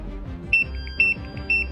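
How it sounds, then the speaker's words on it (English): A carbon monoxide alarm goes off in a tunnel work space, giving loud, shrill electronic beeps in a steady repeating pattern, about two per second, over a low rumbling background. "the numbers are going up and the alarm is about to go off."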